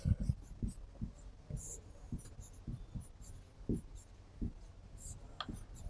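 Marker or chalk scratching on a board during a Hindi biology lecture, a series of short taps and strokes spaced irregularly, close and fairly quiet, with no talk over them.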